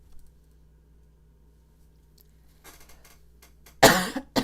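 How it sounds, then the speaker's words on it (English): A person coughs in a short, harsh burst after choking on saliva, loud and close, following several seconds of near silence with faint tapping. "I'm coughing on my own, saliva."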